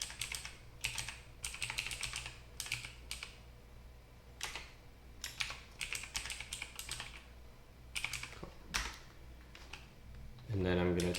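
Someone types an email address on a Windows computer keyboard, the soft key clicks coming in quick uneven bursts with brief pauses, followed by a short louder thump at the end.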